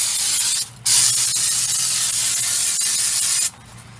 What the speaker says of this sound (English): the rotor just with a quick shot of brake clean